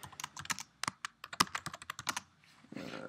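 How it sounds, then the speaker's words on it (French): Rapid typing on a computer keyboard while a text block is filled in during an InDesign layout session, a close, crisp run of irregular key clicks for about two seconds, then quieter rustle. "Et je vais écrire illustration."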